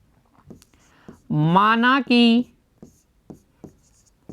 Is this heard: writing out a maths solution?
yes